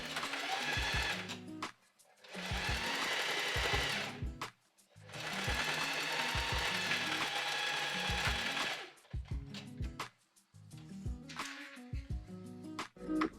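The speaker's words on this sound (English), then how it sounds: "And now I'm just gonna sew along it again." A sewing machine stitches fabric for a make-up bag in several long runs of rapid, even mechanical whirring, separated by short pauses and a few brief stop-start bursts near the end.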